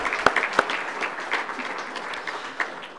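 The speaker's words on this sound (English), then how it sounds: "I'd also like to give a round of applause to our gold sponsors" Applause from a conference audience for gold sponsors, moderate and scattered, with a few sharp individual claps standing out near the start before the clapping settles into a steady patter.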